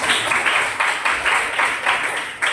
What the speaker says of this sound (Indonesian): beri tepuk tangan untuk Wanda